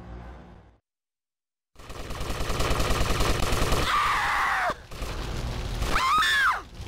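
Rapid automatic gunfire erupts in Vice City played on the PPSSPP emulator: a loud, sustained burst of shots after a short silence, then a pause and another sharp volley with ringing, whining tails.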